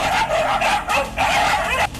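Stray dogs barking and yipping during an attack on a small child, close and loud, in several bursts with short gaps and some whimpering, with faint traffic noise behind.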